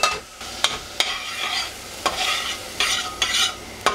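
Red jalapenos sauté in a hot pan, a continuous soft sizzle broken by repeated sharp scrapes and clacks of stirring, close and clear with no voices.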